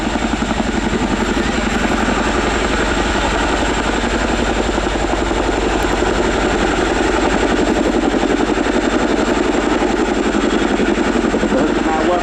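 Royal Air Force Boeing Chinook HC.6 twin-rotor helicopter flying a display at an air show, a constant loud throbbing rotor and engine drone that lasts throughout with no break.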